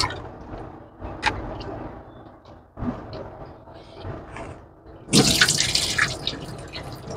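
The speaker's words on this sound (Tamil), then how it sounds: "ரெண்டு மூணு வாஷிங் பண்ணணும் இருக்குது." Raw prawns are rinsed under running kitchen tap water, with uneven splashing and trickling that ebbs and surges, turning into a louder gushing splash near the end; no speech.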